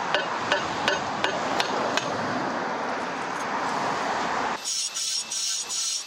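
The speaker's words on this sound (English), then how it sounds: "then hit it with a hammer, hoping it would break in the right place." A hammer strikes a partly cut paving slab to crack it, a series of sharp metallic blows spaced about a second apart, followed by a brighter clinking tap pattern near the end, close and loud with no talk.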